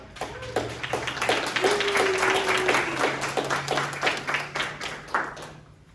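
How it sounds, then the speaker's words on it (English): An audience claps for Samantha at a PROpel AVL GROW content-creation session, individual claps fairly distinct and near, with a low hum and a faint tone underneath, tapering off toward the end. "give a good round of applause to Samantha"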